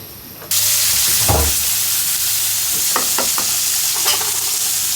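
Prawns lightly frying in hot oil in a home kitchen, a steady close sizzle with a few stirring scrapes and clinks of the utensil against the pan, no talking.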